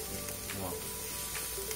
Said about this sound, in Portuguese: a nossa manteiga vai derretendo, eu já vou adicionar cebola